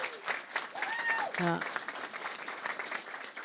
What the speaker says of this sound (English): Give her a huge round of applause.